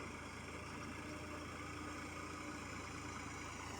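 A tractor ploughing a farm field to prepare it for planting rice, under hot sun: a faint, distant, steady engine drone continues without a break.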